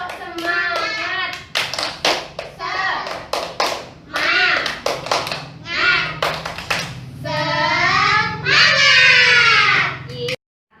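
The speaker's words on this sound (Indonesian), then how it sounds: "Yuk kita tepuk semangat dulu kalau masih semangat." In a classroom, a group of children do a rhythmic spirit clap, chanting together between quick bursts of patterned hand claps. The sound is loud and close and keeps going for about ten seconds before stopping abruptly.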